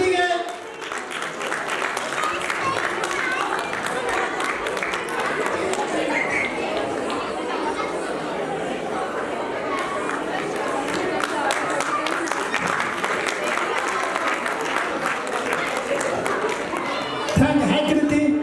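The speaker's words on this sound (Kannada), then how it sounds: "ಚಪ್ಪಾಳೆ ಕೃತಿಗೆ." Audience applause and crowd chatter for a child at a prize distribution, a steady mass of clapping mixed with talk from many people that continues throughout and swells slightly near the end.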